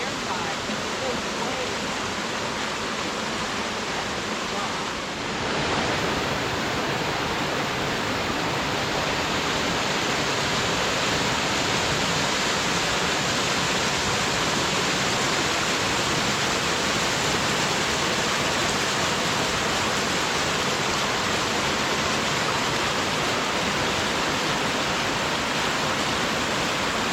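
Creek water rushes near a waterfall along a forest trail, a loud, dense, steady roar of flowing water that swells slightly after a brief dip early on and continues unbroken.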